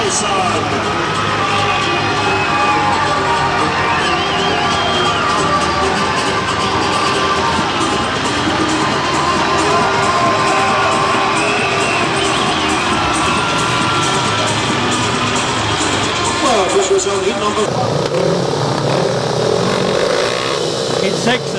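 A speedway crowd at a 2003 Monarchs versus Isle of Wight meeting cheers and applauds the riders, a dense, loud and steady roar that likely carries motorcycle engine noise and lasts throughout.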